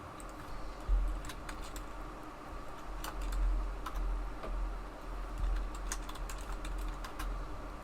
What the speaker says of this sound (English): I literally can't see the letters I'm typing.